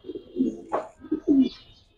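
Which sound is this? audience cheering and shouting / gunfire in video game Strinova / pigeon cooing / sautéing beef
pigeon cooing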